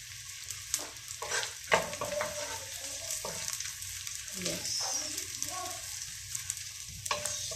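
Edible gum (dink) frying in a pan for dry fruit ladoo, a soft crackling sizzle under a voice talking throughout, with occasional scraping stirs of the spoon.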